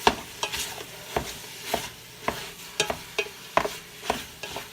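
Hamburger meat and onion get broken up in a frying pan, a utensil scraping and tapping in a steady rhythm of distinct strokes over a soft, constant sizzle, close by with no talking.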